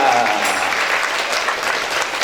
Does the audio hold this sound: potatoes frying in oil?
no